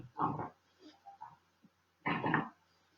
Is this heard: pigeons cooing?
no